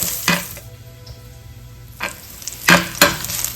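Crushed garlic sautéing in hot coconut oil for a Kerala-style dish makes a soft, steady sizzle, punctuated by four sharp scraping stirs of a spatula against the pan.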